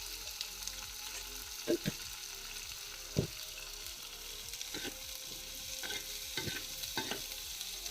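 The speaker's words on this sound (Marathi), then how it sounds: "मस्त तेल टाकून चांगलं परतून घ्यायचे." Ghaypat (agave) vegetable stir-fried in oil gives a low, steady sizzle, with occasional soft scrapes and taps of a spoon stirring in the pan. Faint and continuous, with no voices.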